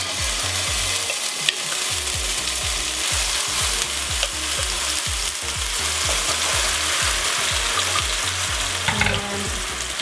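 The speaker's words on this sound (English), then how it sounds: "We're adding the curry paste first because we wanna heat it up, get those aromatics going" Thai green curry paste frying in a hot pan, a loud continuous sizzle layered with rhythmic scraping strokes of a stirring utensil, close and dense throughout, no speech.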